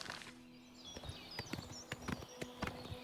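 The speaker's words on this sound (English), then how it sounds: "I get to keep this horse?" Horse hooves clip-clop steadily at a walking pace in Oblivion Remastered, close and fairly quiet, with a few faint background game sounds.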